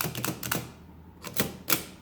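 Keyboard clearing on a Swift adding machine under repair gives sharp mechanical clacks, a quick cluster of about four snaps followed by a pause and then a few more close, crisp strikes.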